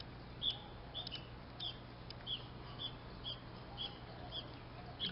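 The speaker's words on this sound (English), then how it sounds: "I hope you can hear the birds." Small birds chirp outdoors at a distance, giving short repeated high calls in an irregular rhythm over a faint steady background hum.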